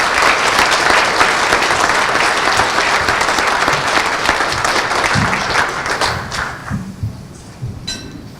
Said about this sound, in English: tonight, we owe her a huge round of applause for the work she does